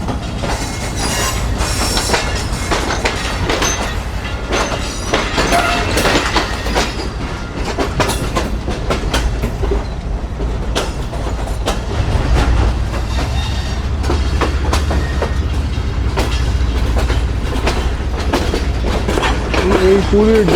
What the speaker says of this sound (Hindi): और फाइनली ट्रेन हमारी निकल गई है कोटरी से।